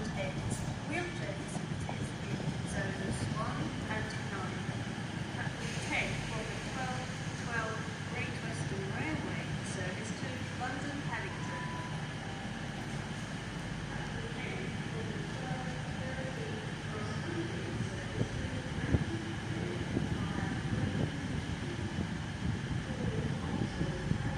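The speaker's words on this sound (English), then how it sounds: "Train now arriving on platform 12 is a TfL Rail service from London Paddington" A TfL Rail Class 345 electric train arrives at Reading station on the Great Western Main Line. Its rumble is a steady, continuous drone for the whole stretch, with wind buffeting the microphone.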